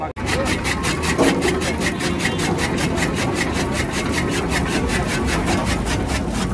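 A fodder chaff cutter runs at an agricultural exhibition, a loud steady mechanical drone with a fast, even rhythmic chopping pulse that continues without pause.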